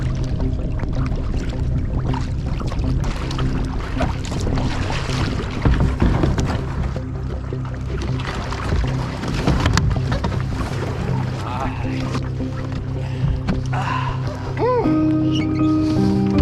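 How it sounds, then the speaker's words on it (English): A kayak paddled in wind on open water, with loud, steady wind rumble and water wash close to the microphone, paddle splashes and sloshing throughout, and a brief voice-like tone near the end. "Paddling with a wind, which means we'll be paddling with a headwind to get back."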